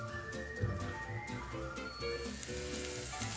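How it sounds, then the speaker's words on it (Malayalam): Vegetable oil sizzles steadily in a pan as meat cooks, a constant close frying crackle with no talking over it. "അപ്പോൾ സെയിം പാനിലേക്ക് ഞാൻ വെജിറ്റബിൾ ഓയിൽ ഒഴിച്ചു മീറ്റ് കുക്ക് ചെയ്യാൻ വേണ്ടിയിട്ട്"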